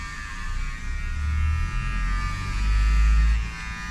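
Electric hair clipper buzzing steadily during a haircut, a close, constant motor hum that swells and eases slightly as the blades move through the hair, with no voices over it.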